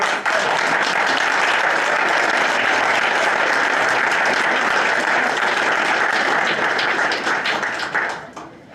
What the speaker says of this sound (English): start with a round of applause for all our staff